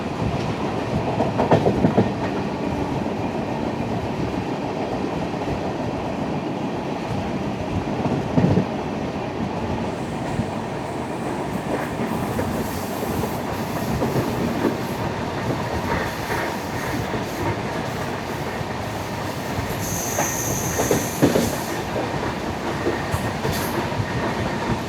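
Onboard a moving Raptisagar Express from Gorakhpur to Thiruvananthapuram, running past Ollur towards Thrissur: a continuous rumble of rolling wheels with clickety-clack rail joints, occasional knocks and a brief high squeal near the end, no talk.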